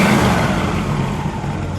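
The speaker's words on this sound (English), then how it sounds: "Go ahead, give it a rev. The 389's got a little body rock." A 1960 Pontiac Bonneville convertible's 389 V8 revs briefly, a loud, close, deep engine roar that swells and then eases off.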